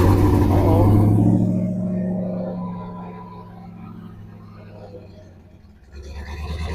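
A twin-turbo Cutlass 442 engine is cranked by its starter, giving a loud droning whine that slowly fades over several seconds before a fresh burst of cranking returns at the end.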